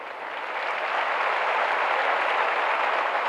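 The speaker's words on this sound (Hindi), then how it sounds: "तालियां बजती रहनी चाहिए, तालियां बजाएं" A crowd claps continuously for new Bihar Police recruits at their appointment-letter ceremony, a thick, even wash of applause that swells slightly in the first second and then holds strong without pause.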